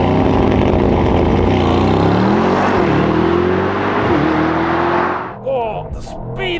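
A Mercedes-AMG GT 63 4MATIC launches from a standstill in race mode, its engine roaring loudly and climbing in pitch through quick upshifts. The roar then drops away sharply, and a voice comes in just after.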